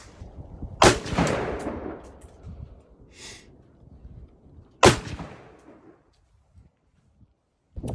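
Two rifle shots fired through an 18-inch barrel, the first with 55-grain and the second with 62-grain rounds into a gelatin target: two sharp, loud cracks about four seconds apart, each trailing off in a short echo.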